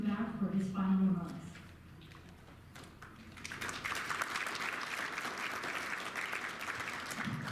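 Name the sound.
audience applause at annual meeting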